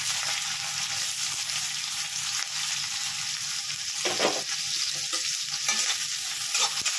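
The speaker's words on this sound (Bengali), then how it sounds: "পেঁয়াজটাকে আমি আগে একটু লাল লাল করে ভেজে নিচ্ছি" Onions frying in oil with black cumin for a potol alu bhaja make a loud, steady sizzle, with repeated stirring clatters near the end and no talking.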